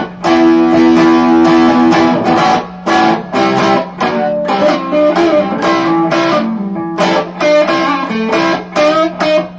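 An electric guitar played through a Tube Screamer overdrive pedal rings out loud and close, with driven chords and sustained notes struck in rhythmic bursts, no voices present.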